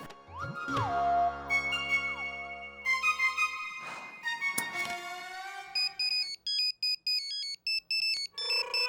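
A string of electronic tones and beeps plays, followed by repeated short ringing pulses in a regular pattern, like a call connecting.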